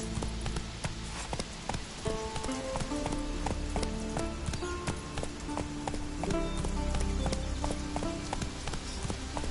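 Horse hooves gallop steadily in The Witcher 3 video game, a fast, continuous clatter of clip-clop beats under a constant noisy game ambience, moderately loud with no talk.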